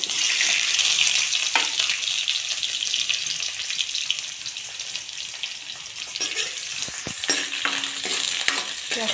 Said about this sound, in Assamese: পিঁয়াজখিনি অলপ সময় ভাজি লওঁ।